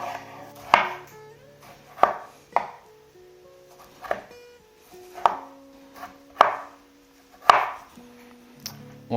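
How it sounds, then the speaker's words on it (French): A knife chopping a tomato coarsely into pieces on a board, about nine crisp, close cuts at an uneven, unhurried pace, each a sharp tap with brief quiet between. "Notre belle tomate. Et on va la couper grossièrement en morceaux"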